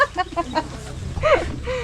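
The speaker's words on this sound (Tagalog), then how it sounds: "Ayun, manok." A few quick chicken clucks up close, followed by a short rising call, with some background noise.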